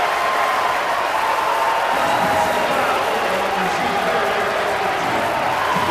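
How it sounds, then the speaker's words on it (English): A packed arena crowd roars steadily at a college men's basketball game between Nebraska Wesleyan and Midland at Snyder Arena, a dense, continuous wall of cheering and clapping with no letup. "Listen to the crowd at Snyder Arena."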